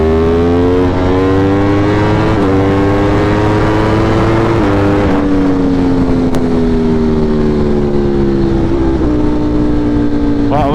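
A motor vehicle engine revving hard on a ride over slick, cold road, loud and close, its tone climbing and dropping in steady harmonic sweeps with brief breaks between rises.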